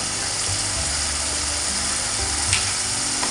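Turmeric being stirred into a frying fish curry base for chepala pulusu, with a continuous loud sizzle and faint scraping from the spoon, steady throughout with a brief clink near the end.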